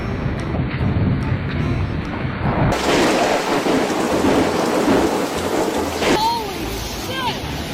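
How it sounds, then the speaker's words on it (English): A lightning strike brings a crack of thunder into a heavy downpour, rain roaring loudly and steadily throughout, with brief shrill squeaks near the end. "That was a terrifying lightning strike"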